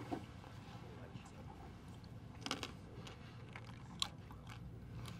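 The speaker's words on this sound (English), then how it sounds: "I'm gonna get me a New York" Someone bites into and chews a New York pizza slice on a city street. Faint, close crunching and chewing, with a couple of sharper bites, sits over a low ambient hum.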